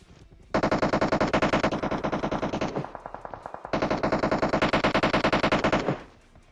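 Rapid bursts of automatic gunfire in PUBG Mobile, two long rattling volleys separated by a short pause, loud and close with game-like sharpness.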